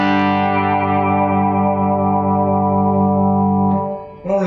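An electric guitar, a Hinbev S2, runs through a Retro Channel preamp into a Divided by 13 amp, sustaining one rich, slowly decaying chord before a brief pick scrape at the end.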